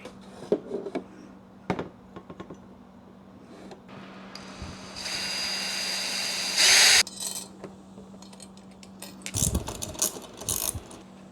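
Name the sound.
drilling bolt holes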